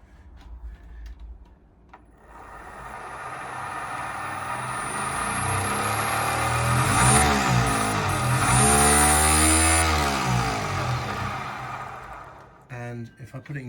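Electric motor of an NSU Quickly moped converted to electric power, whining up in pitch as it speeds and then winding back down, with a faint rubbing edge, all close by.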